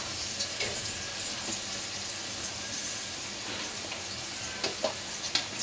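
Ground spices, including turmeric, coriander, cumin, salt and ginger-garlic paste, sizzle steadily in hot oil in a village kitchen pan, with a continuous frying hiss and a few soft scraping stirs, no talking.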